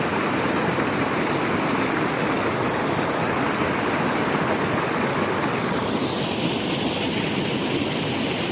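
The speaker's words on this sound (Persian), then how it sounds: "آب ورودی بند همبستگی سنجی لمان هم زیاد شده بعد از بارندگی های دیروز" Heavy inflow of floodwater rushing into the Sangjoy Luman check dam after a day of heavy rain, a loud, steady broadband roar that continues unbroken throughout with no voices.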